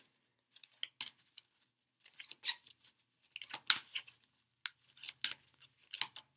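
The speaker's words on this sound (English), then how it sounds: "I'm still shuffling, Aquarius" Quiet, irregular crisp snaps and riffles of tarot cards being shuffled, in short clusters with silent gaps, close and soft.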